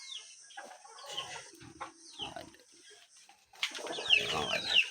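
Golden Boy hybrid chickens cluck and crow nearby in a farm yard, with scattered bursts of calls, some rising crows, and a louder busy stretch near the end.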